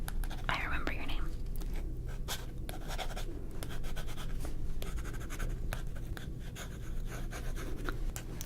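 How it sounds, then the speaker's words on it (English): Pen scratching across paper at close range in an ASMR roleplay, with soft irregular strokes and brief pauses, overlaid by quiet whispering throughout. "let me write down your name."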